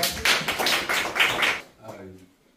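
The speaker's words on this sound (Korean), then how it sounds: "자, 박수 부탁드립니다" Applause from a seminar audience greeting a guest professor at a legal forum, a dense patter of hands for about a second and a half before fading out quickly into a quiet room.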